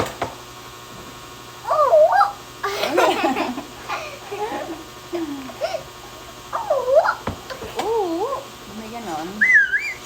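A person whistles several short wavering tunes between bits of casual talk and giggling, close by in a quiet room.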